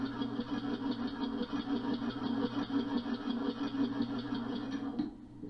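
A homemade oval air engine running on compressed air at about 110 psi makes a steady, fast mechanical chuffing pulse at moderate volume, then cuts off abruptly near the end.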